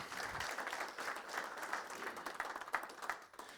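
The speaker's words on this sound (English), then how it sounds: "So a quick round of applause for Denny Borsey making this happen." A football event audience gives a round of applause at the unveiling of the Denny White trophy for the Marysville–St. Clair varsity game, scattered hand claps ringing out fairly faint and somewhat distant, uneven and patchy rather than a full roar.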